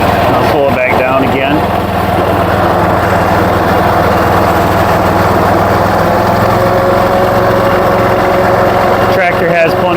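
A John Deere 210 garden tractor engine runs steadily close by, a constant loud mechanical drone with a brief rise near the end, while someone talks over it.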